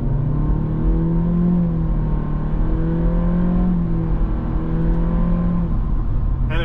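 A 2024 Acura Integra A-Spec pulls hard, its engine note climbing steadily in pitch through the revs, loud and continuous from inside the car with no talking.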